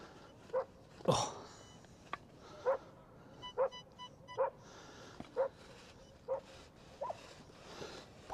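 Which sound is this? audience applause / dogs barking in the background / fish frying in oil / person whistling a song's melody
dogs barking in the background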